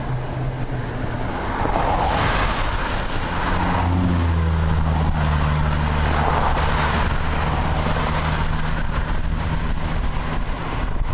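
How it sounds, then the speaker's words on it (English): Cars passing on a road during a bicycle ride, a loud steady rush of wind and tire noise with a swelling engine drone in the middle as a few vehicles go by. "You get a spurt like that of cars"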